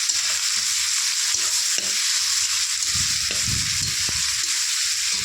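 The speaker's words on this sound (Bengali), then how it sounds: "পেঁয়াজটা দিয়ে দিলাম, একটু ভাজা হয়ে গেছে।" Onions sizzle in a pan of hot oil spiced with cumin and bay leaf, a steady close frying hiss broken by a few sharp scrapes as the mixture is stirred.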